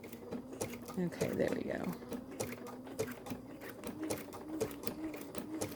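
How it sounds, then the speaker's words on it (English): A home sewing machine runs a single stitch along the edge of an appliqué petal set on white fabric, giving a steady, rhythmic mechanical clatter close by while a person talks briefly. "And it's just doing a single stitch"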